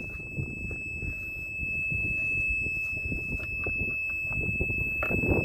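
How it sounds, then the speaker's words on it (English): A steady, high-pitched alarm tone drones continuously from a Mercury 40hp two-stroke outboard motor, holding unbroken over low rumbling and handling noise. "let's turn on the ignition. Let's see if this stops the alarm."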